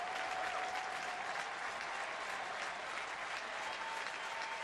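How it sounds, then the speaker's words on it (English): Steady applause from a distant crowd at a baseball game, a soft continuous wash of clapping with no break. "He'll get a nice applause again when he heads back to the dugout"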